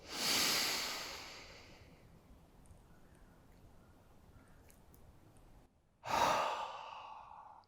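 Two deep, audible breaths, each a long airy inhale-exhale, are separated by a quiet pause during a guided meditation session.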